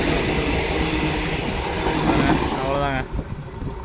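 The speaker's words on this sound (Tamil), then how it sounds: "அந்த ரயில் அவ்வளோதாங்க புறப்பட்டு போச்சு" A train pulls out of a station in Japan, a loud continuous rumble of wheels and rail noise with a brief rising whine near the end before it drops away, with a voice speaking over it.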